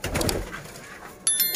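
Golden pigeons make short cooing calls with a few bright chirps, fairly close and clear, with no talk over them.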